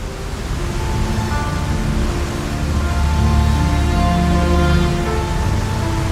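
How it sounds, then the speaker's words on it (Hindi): Ahi waterfall in the hills near Anini, Arunachal Pradesh, gives a steady, loud roar of water forcing through a gorge between two mountains, an unbroken broadband rush that swells slightly midway with no voices. "इस वाटरफॉल की जो आवाज़ आ रही है वो इतनी तेज़ आ रही है"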